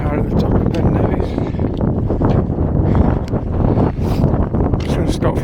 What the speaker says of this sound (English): I don't know if you can hear me for the wind